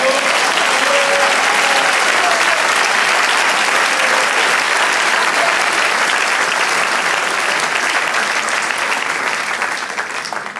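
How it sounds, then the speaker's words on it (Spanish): A church congregation applauds during a sermon by Pastor Juan Radhamés Fernández, with dense, loud, sustained clapping filling the room throughout and fading slightly at the very end. "Da un aplauso al Señor"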